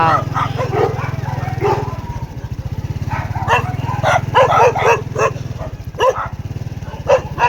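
Dogs bark repeatedly in short bursts, fairly close, over a steady engine drone, with some yips mixed in.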